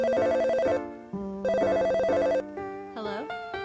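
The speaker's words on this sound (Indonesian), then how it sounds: "Tiba-tiba ada nomor yang tidak kukenal menelponku" A phone ringtone in a Roblox horror game, a call from an unknown number: a loud electronic melody repeating in two bursts with a short gap, then a softer sliding tone at the end.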